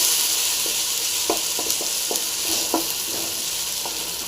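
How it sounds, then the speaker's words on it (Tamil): Tomatoes sizzle in a pan under a steady frying hiss, with a run of sharp utensil scrapes and taps as they are stirred up close. "தக்காளி வந்து நல்லா ஃப்ரை பண்ணிங்க"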